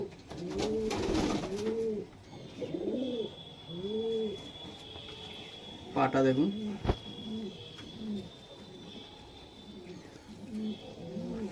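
A male spotted pigeon at a pigeon sale gives a run of low rising-and-falling coos in a steady rhythm, close by, with a brief burst of wing flapping and someone speaking briefly partway through.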